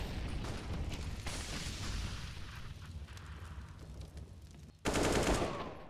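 Gunfire in a Counter-Strike match during a competitive esports game, rapid bursts of rifle shots with a louder sharp burst near the end, heard without commentary in this moment.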